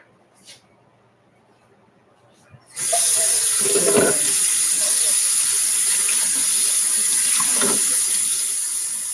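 Kitchen tap water gushes into a sink to rinse excess cheese away, starting abruptly after a quiet moment and running loud and steady, with faint clinks beneath the hiss.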